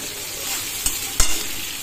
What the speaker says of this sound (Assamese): গোটেইখিনি দিয়াৰ পিছত অকণমান লৰাইখিনি এইখিনি অলপ ভাজিব দিম